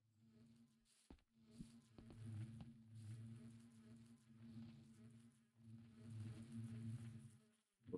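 Bees from a Minecraft ATM9 modpack hum in a faint, continuous buzzing drone, with a few soft clicks breaking it early on.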